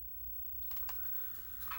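Typing on a computer keyboard: a quiet run of light key clicks over a steady low hum.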